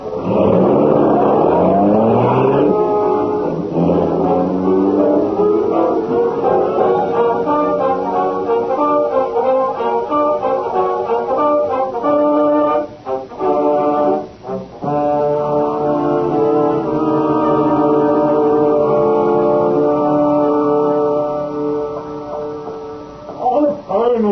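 A 1930s radio-drama car speeds along toward an old factory, its engine droning and revving loudly and steadily throughout, with brief dips and a voice speaking over the motor.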